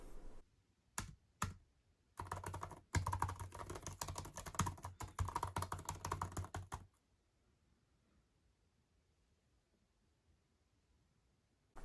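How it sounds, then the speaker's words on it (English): Typing on the keyboard of a 2020 13-inch MacBook Pro, a quick, quiet run of close keystroke clicks lasting several seconds, then stopping into near silence. "I love typing on this keyboard."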